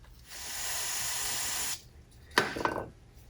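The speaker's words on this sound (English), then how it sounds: "I'm putting the little brake cleaner on this rag." Brake cleaner hisses from an aerosol can onto a rag in one steady, close burst of about a second and a half, followed by a few short rustling and clattering handling sounds during a Warn winch rebuild.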